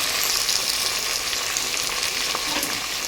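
Mint and coriander frying into bagara rice in a pan give a loud, even sizzle with light crackles and a few stirring scrapes, no talk.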